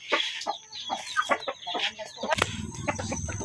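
Chickens clucking and squawking at feeding time on a rural farm, a busy run of short calls close by, with a low rumbling hum joining in toward the end.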